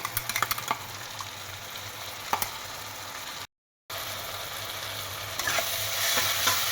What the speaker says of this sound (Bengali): এবার এটা খুব ভালো করে একটু কষাবো